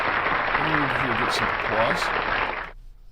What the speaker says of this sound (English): Duchess the Great, everyone here gets some applause.